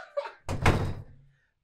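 An interior door shuts with a single solid thump and brief rattle, close and fairly loud, ringing out into silence; a faint voice is heard just before it.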